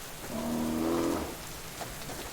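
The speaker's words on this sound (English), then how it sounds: "Ah, rain." Rain falling in the video game Subsistence, a steady soft hiss with a low tonal hum swelling briefly near the start, no talk.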